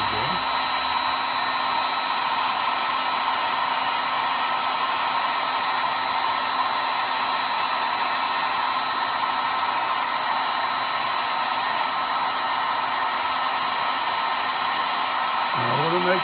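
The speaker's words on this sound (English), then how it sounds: "having a hair dryer really helps accelerate the painting" A hair dryer blows to dry paint on a painting, giving a loud, steady close-up whoosh with a high whine that runs unbroken nearly to the end, where it cuts off.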